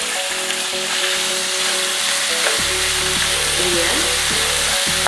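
Pork meat dropped into hot cooking oil for spicy Bicol Express, a loud, steady, close sizzle that flares when the meat goes in, with a brief spoken word near the start.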